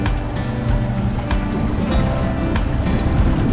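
Wind picks up while sailing on Priest Lake, a loud continuous rush over the boat mixed with splashing water and hull noise, with occasional sharp gusts or slaps.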